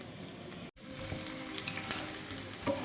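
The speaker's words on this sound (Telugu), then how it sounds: "అల్లం వెల్లుల్లి పేస్ట్ బాగా వేగింది పుదీనా వేస్తున్నాను" Ginger garlic paste and mint fry in a hot pan with a steady, close sizzle and crackle that drops out for a split second, then resumes evenly.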